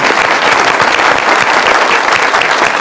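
A live music show audience applauds a performer with dense, loud, steady clapping that fills the whole stretch without pause.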